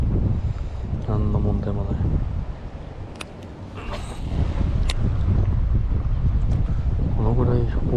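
Strong gusty wind buffets the microphone at an outdoor fishing pond during casting, a loud continuous roar with a brief lull, while someone talks over it.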